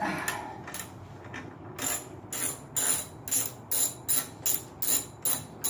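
A socket ratchet loosens a motorcycle fender stay, giving a run of quick clicking bursts that start sparse and settle into a fast regular rhythm, close and clear with no talking.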